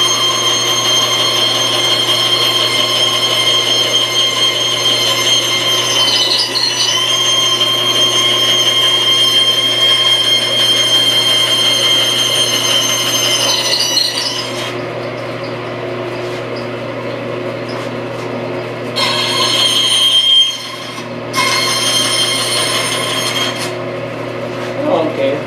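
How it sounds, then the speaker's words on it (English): Continuous rasping drone of a disc sander shaping the outside corners of a large wooden sign pattern, loud and steady with brief dips and pauses where the workpiece lifts away. "Outside corners, of course, you'll need those on the disc sander."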